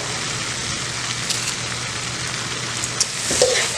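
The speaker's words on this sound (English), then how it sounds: "as you're letting your butter bubble up, you want to start adding your 6 cloves of garlic" Six cloves of garlic sizzle in bubbling butter in a pan for shrimp, sausage and chorizo paella, giving a steady close hiss and crackle with a few louder pops near the end.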